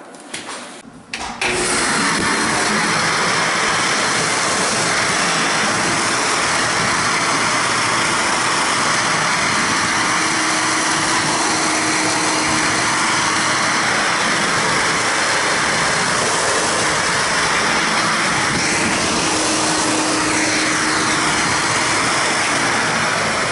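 A 1970s Tristar Compact C9 vacuum cleaner switches on and runs as a loud, steady motor whine and rushing airflow, unbroken and close, with no speech.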